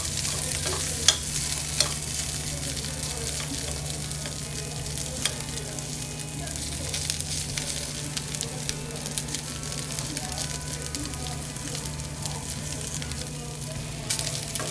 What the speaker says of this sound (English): So I added my ingredients, so I want to mix it now